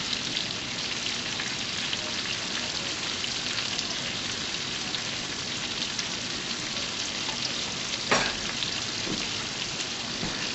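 Garlic and red bell peppers sautéing in a pan, a dense, even hiss of frying close by that holds steady throughout, with one brief clatter near the end and no talking.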